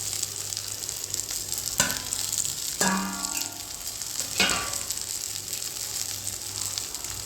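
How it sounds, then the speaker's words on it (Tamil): Onion, garlic, tamarind and dried chillies sizzle steadily in hot oil for a Tamil parandai chutney, with a few sharp clinks and scrapes of stirring breaking through the continuous frying hiss. "இப்போ எண்ணெய் விட்டுட்டு வெங்காயம், பூண்டு, புளி, வரமிளகா இது எல்லாத்தையும் வறுத்துருவோம்."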